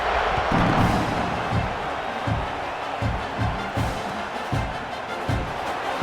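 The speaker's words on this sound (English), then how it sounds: "This place is roaring" Loud stadium crowd at a football game, a continuous roar filling the clip with repeated heavy thumps and slams cutting through it.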